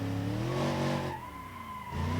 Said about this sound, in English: You can clutch kick, which is like this.